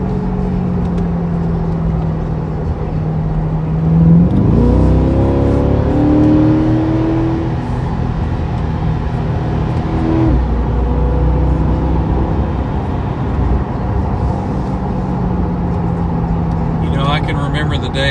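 A vehicle on winding roads downshifts and accelerates through a turn, the engine pitch dropping then climbing steadily under a continuous drone, with someone talking over it.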